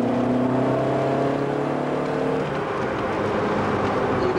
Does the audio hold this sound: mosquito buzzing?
no